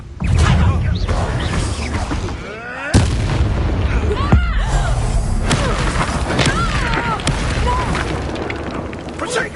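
The Bombarda blast spell goes off during combat in the video game Hogwarts Legacy. A sharp, loud boom hits near the three-second mark among other crashing impacts and game sounds.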